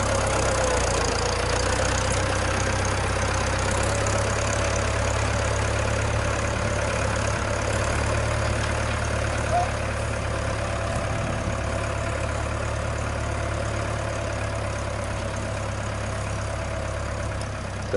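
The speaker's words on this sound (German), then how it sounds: "Trecker fahren, Trecker fahren," A tractor engine runs steadily with a constant low, heavy rumble and idling drone, unchanging and continuous throughout, with no talking over it.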